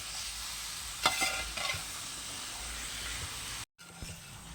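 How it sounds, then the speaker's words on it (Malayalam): Chicken perattu cooks in a pan on lowered flame, stirred with a spoon. Scraping strokes stand out over a soft, steady sizzle, followed by a brief gap and a few faint clinks. "നമ്മളൊരു പ്രാവശ്യം കൂടി ഇത് ഒന്ന് ഇളക്കിയിട്ട് കൊടുക്കുകയാണ്"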